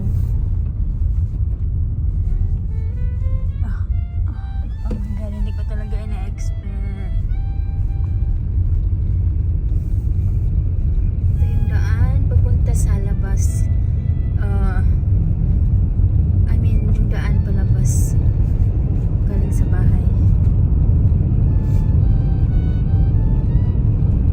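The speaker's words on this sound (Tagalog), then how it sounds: "daming sasakyan ngayon." Steady road traffic rumbles outside on a snowy day as many cars pass, a continuous low engine and tyre drone, while a person talks over it with scattered brief sounds.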